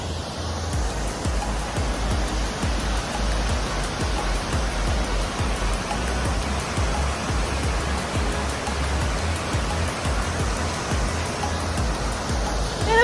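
A waterfall reached after a hike roars as a dense, steady rush of falling water, loud and close, continuous with no voices.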